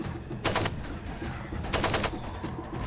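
Gunfire in the video game Far Cry 2: two sharp bursts of rapid shots stand out against a low, busy game background, loud and close.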